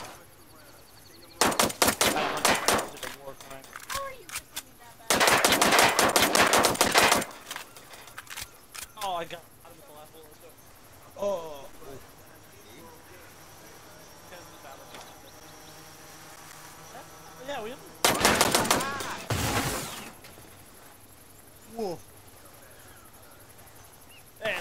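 Gunfire from a game, with several sharp rapid-fire bursts of a few seconds each, loud and close, separated by quieter stretches of background game sound.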